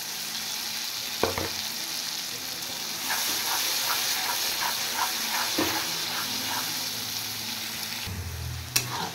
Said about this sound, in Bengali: এবার এটা আমি একটু ফ্রাই করে নেব